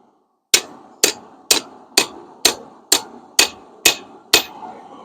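A hammer strikes hot steel while forging a spring fuller, nine sharp ringing blows at an even, steady pace, each with a short metallic decay, close and loud with no talk.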